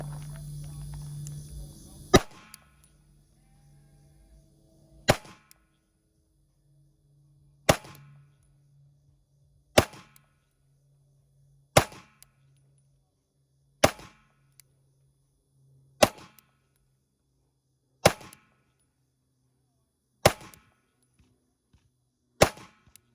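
A pistol with a compensator fires 124 grain +P HST rounds over a chronograph, nine sharp, loud shots spaced about two seconds apart, each decaying quickly, after a brief burst of noise at the start.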